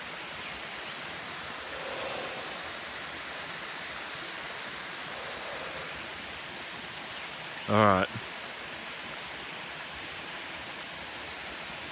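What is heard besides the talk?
water flowing over a creek weir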